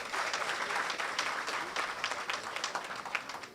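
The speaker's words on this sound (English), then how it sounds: "give her another round of applause" Audience applause at an entrepreneurship grants presentation, a fairly faint, steady patter of clapping from a seated crowd lasting a few seconds.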